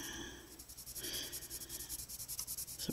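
Budget colored pencils scratch steadily across paper in continuous close strokes while shading a dark area, a soft dry rubbing with a regular rhythm and no talk.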